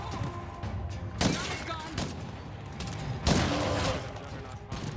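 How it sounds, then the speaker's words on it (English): Gunfire in State of Decay 2 crackles in two strong bursts amid a busy combat din, with voices talking throughout. "Yes, please keep shooting that guy."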